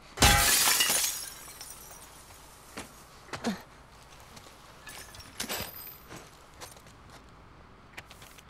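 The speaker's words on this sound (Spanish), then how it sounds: "a lo mejor puedo romper el vidrio" A glass window is smashed in the video game The Last of Us Part II. One loud, bright shatter is followed by scattered shards and faint crunching footsteps over glass. No one speaks.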